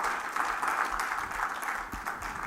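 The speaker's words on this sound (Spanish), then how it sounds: "Dele palmas al Señor si lo tiene y dele gracias" A church congregation claps together during a service, a moderate, slightly distant patter of many hands that holds steady for a couple of seconds, with a faint voice underneath.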